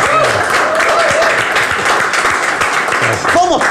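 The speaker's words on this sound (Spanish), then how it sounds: "Fuerte aplauso para el gran actor Jaime Badel" Studio audience applauding actor Jaime Vadell on a comedy talk show, a steady wash of clapping with cheering voices mixed in, loud and continuous throughout.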